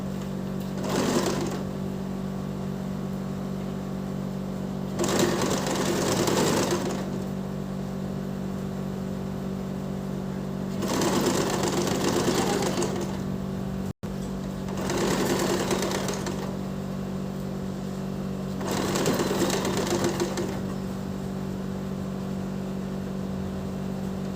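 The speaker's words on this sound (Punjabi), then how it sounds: "ਫਿਰ ਆਪਾਂ ਇਹ ਤੇ ਸਿਲਾਈ ਲਾਉਣੀ ਹੈਗੀ" A sewing machine stitching lace onto cloth runs in four short bursts of rapid, whirring stitching, close and fairly loud, separated by pauses filled with a steady low hum.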